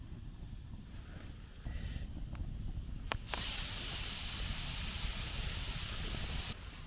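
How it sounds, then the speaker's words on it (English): Water heated by hot stones boils at a campsite, giving a steady hissing, steamy rush that grows louder partway through, with a few sharp crackles, then drops back near the end. "I have a boiling water."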